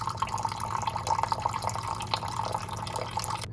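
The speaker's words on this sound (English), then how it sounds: "And then I'll add water." Water poured into a cooking pot while making ukwa (African breadfruit) porridge, a short steady splashing and trickling fill with dripping, close and fairly loud, no voices.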